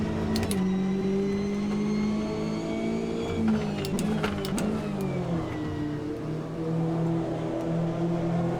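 Corvette race car engine in the Automobilista 2 racing game, a steady droning note that climbs and dips with shifts and throttle changes, loud and continuous with no talk over it.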